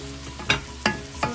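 Bitter melon (ampalaya) stir fry with beef stock, sugar and black pepper is mixed in a sizzling pan. Three distinct scraping strokes of the spatula land at a steady rhythm over a continuous crackle.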